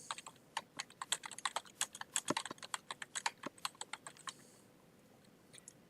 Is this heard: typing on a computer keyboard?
yes